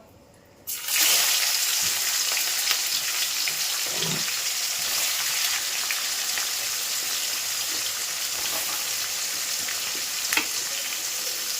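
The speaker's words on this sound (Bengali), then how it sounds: "ভাতটা একটু ভাজা করে দিচ্ছি" Cooked rice goes into a hot pan and starts frying with a sudden loud hiss that holds as a dense, steady sizzle, with a faint clink or two from stirring.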